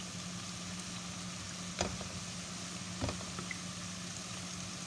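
Chili ketchup hits a hot frying pan with a steady, moderate sizzle, broken by two brief clinks or stirring knocks, with no talking.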